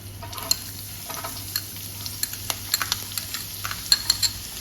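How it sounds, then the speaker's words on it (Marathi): Onions frying in a pan with chillies and curry leaves for a javla dish, a steady close sizzle broken by sharp clicks of a spoon stirring against the pan, no talking. "आता आपण त्याच्यामध्ये कांदा टाकायचा।"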